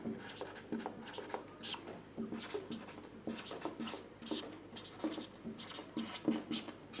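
Pen scratching across paper while an equation is written out during a Hindi maths lesson on the substitution method, a steady series of short close strokes and scrapes with brief pauses between them.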